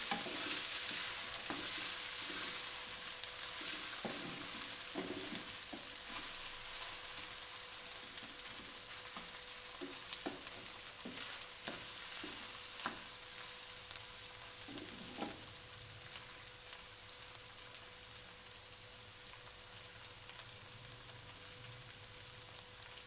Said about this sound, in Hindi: अब मैं भिंडियों को इसमें शामिल कर लेती हूँ। इस तरह से भिंडियों को और प्याज को मिक्स कर लेंगे।